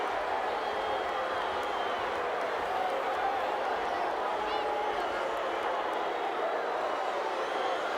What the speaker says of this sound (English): Getting mixed emotions here from this crowd.